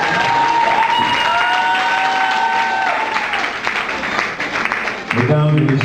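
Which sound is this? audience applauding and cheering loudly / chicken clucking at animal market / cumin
audience applauding and cheering loudly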